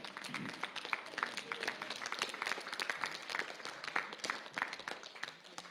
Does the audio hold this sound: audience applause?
yes